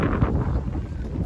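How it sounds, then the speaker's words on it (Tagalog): Strong wind at Abraham Lake buffets the microphone in a low, rumbling roar, steady and close, with no other sounds standing out. "malakas ho ang hangin"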